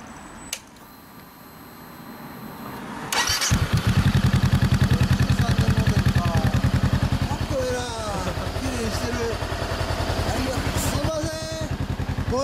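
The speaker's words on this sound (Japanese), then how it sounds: "エンジン音聞かせてもらえる？" A 2013 Honda CBR400R motorcycle with an aftermarket exhaust starts up and settles into a loud, close, steady idle with a fast, even pulse, and a few faint voices are heard over the engine.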